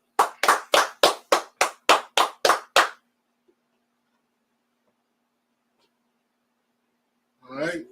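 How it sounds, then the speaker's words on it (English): Ten sharp hand claps in a quick, even rhythm ring out close and loud for about three seconds, followed by silence and then a brief burst of voice at the very end. "Clap it up."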